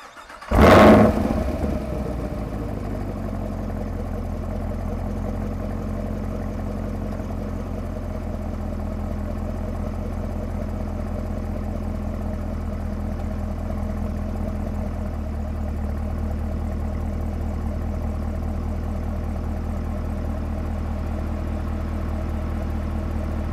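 A supercharged V8 in a Camaro ZL1 roars up with a loud start burst, then settles into a steady, deep idle rumble that holds close and continuous with no talk.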